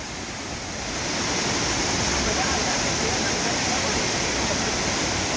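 Las Brisas waterfalls in Oaxaca, Mexico roar as a dense, steady wash of falling water, starting slightly softer and then swelling to a constant, moderately loud rush.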